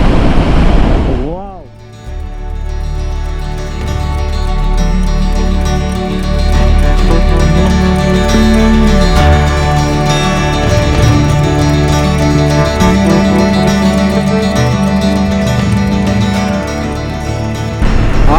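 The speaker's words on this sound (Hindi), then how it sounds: "ये तो जबरदस्त किस्म की दरिया है, काफी तेज बह रहा है मुझे लग रहा है।" Fast-flowing light green river in the Austrian Alps near Hallstatt, a steady broad roar of rushing water, loud and continuous, with a brief dip near the start and wind buffeting the microphone.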